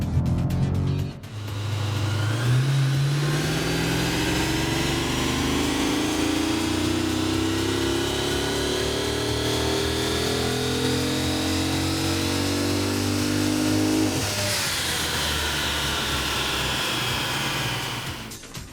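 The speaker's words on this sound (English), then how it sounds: "the sound of a Hemi, especially compared to other V8s, it's a pretty awesome sound" A 2014 Chrysler 300C SRT8 with a Hemi V8 revs up in a long rising pull that holds a climbing engine note, then drops off and settles to a steady drone, close and loud with no voices.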